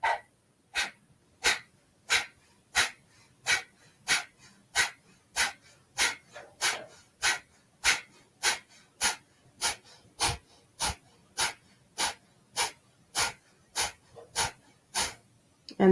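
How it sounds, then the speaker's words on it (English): Rapid rhythmic breaths during a deep breathing exercise, about twenty-five sharp forceful exhales at an even pace of roughly one and a half per second, close and distinct over a quiet background. "and then big breath in"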